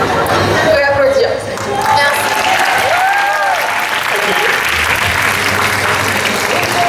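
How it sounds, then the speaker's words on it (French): Audience applause at a Paris Manga fan convention panel, a dense crowd clapping steadily and loudly for several seconds, with whistles and voices mixed into the roar. "Je vais applaudir."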